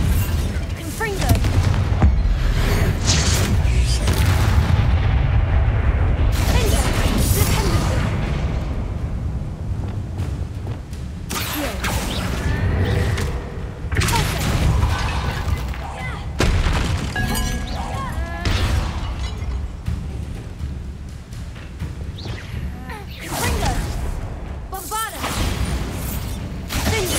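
Confringo fire spells exploding in the wizarding game Hogwarts Legacy: repeated loud bursts and booms with crackling debris, dense and continuous over a rumbling game score, with a brief pause before more blasts.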